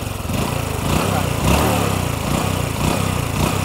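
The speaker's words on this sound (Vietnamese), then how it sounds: "Hụ lên cái ga này nghe cái máy không chắc nè." Honda Wave motorcycle engine with a long swingarm revved by hand throttle, a steady close, loud chugging drone that swells in a few surges, with no speech over it.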